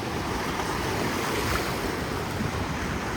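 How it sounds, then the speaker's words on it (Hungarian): Ocean waves roll onto a beach in Portugal, making a steady, loud wash of surf that fills the scene, with wind buffeting the microphone and no voices. "A szörfösökkel együtt várjuk, hogy megérkezzenek a hullámok."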